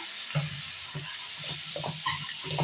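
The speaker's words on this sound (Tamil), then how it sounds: "கொஞ்சம் நேரம் எண்ணெயிலேயே வதங்கிட்டுங்க" Brinjal and broad beans sautéing in hot oil for sambar give a steady low sizzle, broken by a few soft stirring scrapes at a fairly even pace. The pan sits close by and there is no talk.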